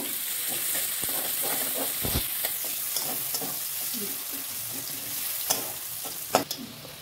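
Chopped onions fry in hot oil in a pan for a fish piyaji, giving a steady close sizzle with a few sharp stirring clicks and scrapes scattered throughout, no voices.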